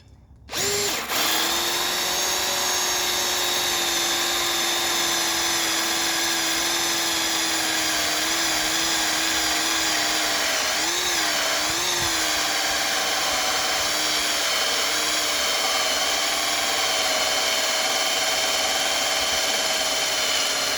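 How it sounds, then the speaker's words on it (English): A Harbor Freight Bauer hammer drill fitted with a saw bit whines steadily and loud for about twenty seconds as it bores holes, its pitch dipping briefly midway under load before settling back. "First we're going to try this and drill some holes."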